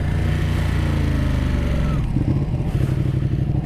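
A Ducati 959 Panigale motorcycle engine runs loud and close on the road in third gear, a dense steady drone with a rougher, pulsing throb in the second half.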